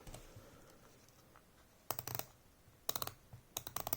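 Quick bursts of sharp ratcheting clicks from a Citizen NY0040 watch bezel being turned come in three short runs separated by pauses, close and crisp over a quiet background.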